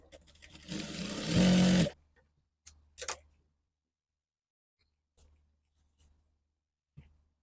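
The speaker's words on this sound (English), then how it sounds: "So next you sew the down part, just match the lining together like this." A sewing machine stitching the lower edge of a blouse lining runs in one loud, close burst of about a second, followed by a few short clicks and handling taps in otherwise quiet surroundings.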